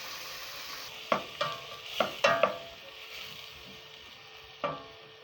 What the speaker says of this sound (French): Verser la tomate ainsi que les carottes.